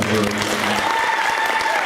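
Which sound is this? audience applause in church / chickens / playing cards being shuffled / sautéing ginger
audience applause in church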